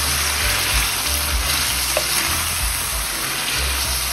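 Peppers and onions sizzle steadily in a pan as tomato passata is stirred in, with a dense continuous frying hiss, soft low scraping from the stirring and no voices.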